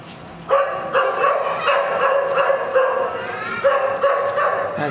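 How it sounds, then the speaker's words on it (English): A small dog barks repeatedly outside a cheap studio apartment in China, a series of sharp, close yips and bow-wows in irregular bursts, loud and alone. "Also kinda got a dog, I don't know if you can hear him."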